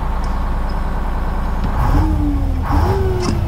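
A 1959 GM 4104 bus engine rumbles at a low idle up close, then swells with a couple of rising, tonal revs as the bus backs out.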